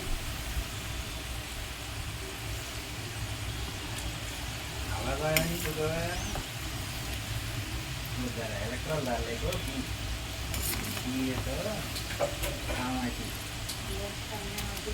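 Potato french fries sizzle steadily in hot oil in a home kitchen, a dense close hiss running throughout while a person talks intermittently over it.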